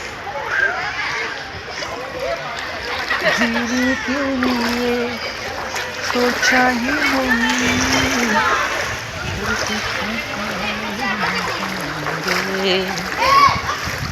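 Water pours and splashes continuously at a resort water park in Virar near Mumbai, a steady churning spatter heard under close, ongoing talk, with children's voices in the background.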